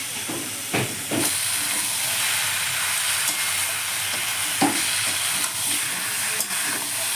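Boiled green jackfruit fried with spices and sugar in a pan, giving a steady loud sizzle and hiss with scattered scraping stir strokes and occasional knocks, close up with no talk.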